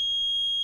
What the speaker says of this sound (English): So this chemical actually triggers the smoke alarm as well, or the carbon monoxide alarm.